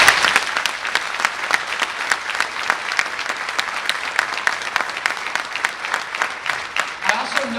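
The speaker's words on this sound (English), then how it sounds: "I'd like us all to give our teaching staff a round of applause." Sustained applause from an audience at a high school awards ceremony honoring teaching staff, dense steady clapping filling the whole stretch at even loudness, with some voices mixed in.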